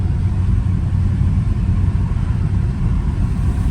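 A loud Dodge Charger Scat Pack rumbles from inside the cabin while driving on a rainy road, a steady low engine drone with road noise and no one talking.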